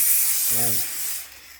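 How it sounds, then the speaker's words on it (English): A short spray of WD-40 hisses onto the glass door of a log burner and is quickly gone, leaving a brief trailing hiss. Someone briefly says a couple of words partway through. "Give it a spray of WD-40"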